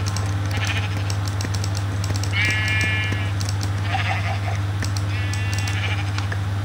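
A Minecraft sheep bleats in short wavering calls, three distinct bleats spaced a second or so apart, over a steady low hum and scattered clicks.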